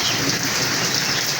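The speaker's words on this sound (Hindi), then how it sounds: "तेज़ बारिश आई है जी।" Heavy rain mixed with hailstones pours down in Punjab, a dense, loud, continuous hiss and patter with no pauses and no voices.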